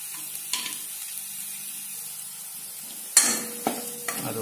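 Coriander and chili powder fry in a pan for Kerala rasam, a steady close sizzle broken by a few sharp scraping stirs near the end, with no talking.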